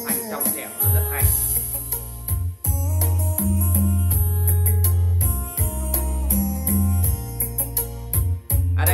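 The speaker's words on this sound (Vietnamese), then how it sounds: "Đây là âm thanh trực tiếp từ một chiếc TV Internet." Music with strong bass and layered instruments plays from an internet TV through a Fender Indio 2 portable Bluetooth speaker at about 40% volume, loud and full, continuing steadily with short dips.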